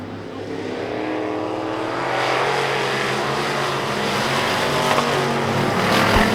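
Dirt track race cars roar through a heat race at Victory Lane Speedway in Manitoba, a loud, continuous engine din swelling as the pack passes, heard from trackside.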